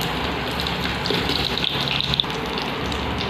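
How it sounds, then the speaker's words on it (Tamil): Cut vetrilai valli tuber pieces hitting hot oil already crackling with curry leaves, giving a steady loud hissing sizzle with a brief surge of spattering in the middle, no voices. "நம்ம கட் பண்ணி வச்சுருக்கிற வெத்தலைவள்ளி கிழங்கை இதில் சேர்த்துக்கலாம்"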